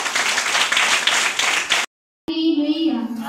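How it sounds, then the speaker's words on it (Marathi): A church congregation claps loudly in thanks to God for about two seconds, then breaks off into a short silence, after which a steady hum with voices and faint clapping follows. "जोरात टाळ्या वाजवून प्रभूला धन्यवाद देऊया"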